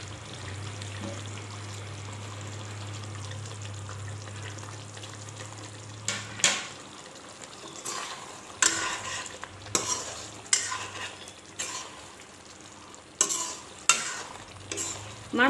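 Fried fish is added to a poppy seed curry and stirred in a pan: a low steady simmer, then repeated scraping and clattering stirring strokes with soft sizzling.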